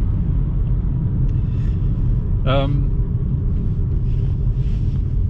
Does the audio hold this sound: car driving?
yes